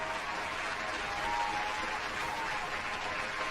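Applause and cheering from a crowd, a steady, dense wash of clapping that holds level throughout without any talk.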